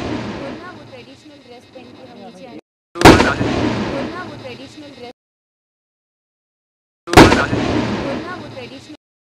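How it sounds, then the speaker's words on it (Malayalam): Two sudden, heavy blasts about four seconds apart ring out in a Himachal Pradesh village near the Pakistan border. Each strikes sharply and then trails off in a long rumbling decay, over a background of murmuring ambient noise. "ഈ ഗ്രാമത്തിൽ പെട്ടെന്ന് കേട്ട സ്ഫോടന ശബ്ദം ഞങ്ങളെ അല്പം ഞെട്ടിക്കാതിരുന്നില്ല"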